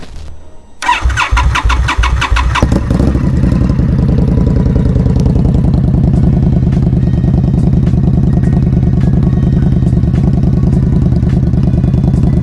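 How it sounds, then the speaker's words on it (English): An Indian Scout motorcycle fitted with an RC Components exhaust cranks and fires up, then settles into a loud, close, throbbing idle with a deep steady rumble. "I have the RC components exhaust, have a real good note and sound"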